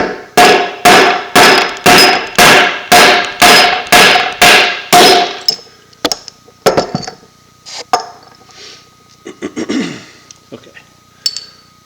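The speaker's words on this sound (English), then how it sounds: "So take your hammer." About eleven sharp, evenly spaced hammer strikes ring out on metal, tapping the bearing out of a BSA cartridge bottom bracket, followed by scattered clanks and handling noises with a short bit of talk.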